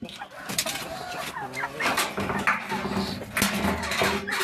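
White Leghorn and Sasso laying hens clucking close by in a coop, their busy overlapping calls mixed with rustling, clanks and a person talking.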